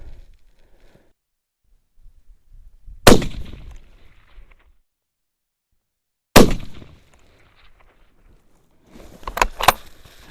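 Rifle shots fired during an ammunition test in low light: two sharp, loud reports several seconds apart in near silence, followed by a cluster of metallic clinks and rattling.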